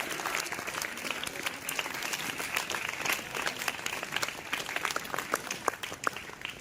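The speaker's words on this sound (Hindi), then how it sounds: "जोरदार तालियां" Tenth-class students in a classroom gathering clap in a moderately quiet, uneven patter, individual sharp claps standing out against a continuous rustling layer of applause.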